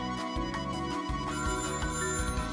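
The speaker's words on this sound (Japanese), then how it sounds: "あら、電話ですわ。" A telephone rings in the workshop-building video game Little Big Workshop, a repeating electronic ringtone pattern with bright, rhythmic bursts, loud and alone with no talk.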